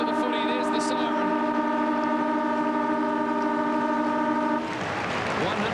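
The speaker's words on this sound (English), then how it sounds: "There's the siren." A football ground siren sounds loud and steady for about four and a half seconds at three-quarter time of an AFL match between Geelong and St Kilda in 2002, then cuts off, leaving crowd noise.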